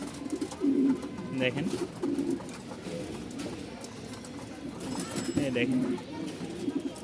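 Pigeons coo in a small crowded loft, soft throaty rolls returning several times while someone talks over them nearby.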